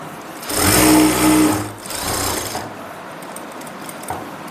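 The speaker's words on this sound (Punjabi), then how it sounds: "ਉਸ ਤੋਂ ਬਾਅਦ ਤੁਸੀਂ ਇਹ ਬੈਕ ਵਾਲਾ ਆਸਨ ਸਿਲਾਈ ਕਰੋਗੇ ਸੇਮ ਉਦਾਂ ਹੀ" Sewing machine stitching the back seam of a palazzo, running in two quick bursts with a short pause between, then a softer slower stretch before falling quiet.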